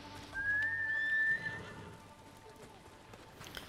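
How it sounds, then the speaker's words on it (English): Horses in the video game Ghost of Tsushima neigh and whinny loudly near the start, with hoof clip-clop in the background as they run, quieter ambience after. "I love when the horses runs around in circles."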